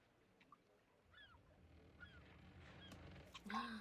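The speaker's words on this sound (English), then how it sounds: "does anyone else hear seagulls?" Faint, distant bird calls used as an ambient cue, with several short squawking cries scattered through the clip under a low background murmur, growing somewhat louder near the end.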